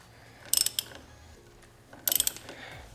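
The air filter on a Cub Cadet XT1 riding mower is loosened with a ratchet, giving two short bursts of quick, sharp clicking about a second and a half apart against a quiet background.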